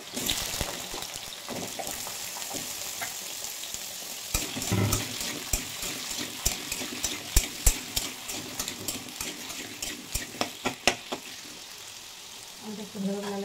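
Potatoes go into hot oil in a wok, giving a soft sizzle with scattered clinks and scraping stirs that grow more frequent toward the end, fairly quiet and close.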